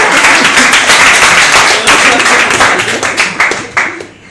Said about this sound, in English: I'm overwhelmed by the clap